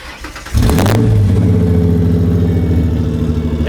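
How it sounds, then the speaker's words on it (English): A V6 Ford Mustang engine turns over and catches, then idles loudly with a steady, rumbling throb, close and continuous after a brief starter whir. "This is easily one of the coolest V6 Mustangs you guys will ever hear"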